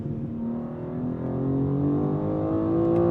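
BMW M2 CS or Audi RS3 compact performance car accelerating hard, engine note rising steadily and loud with quick, hasty gear shifts briefly interrupting the climbing harmonic drone.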